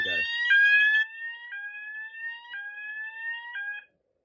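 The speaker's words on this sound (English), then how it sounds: "You heard the sounder go off." A fire alarm sounder on an electrician's fire alarm panel goes off. It repeats four rising electronic tones, each about a second long, clear and fairly close, and then falls silent.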